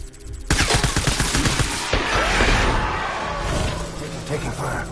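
Gunfire erupts in Death Stranding, a loud dense burst of shots and impacts that carries through a rumbling, chaotic stretch; a voice is heard during it.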